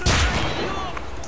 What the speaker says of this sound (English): I'm going to blast him with a shotgun shell.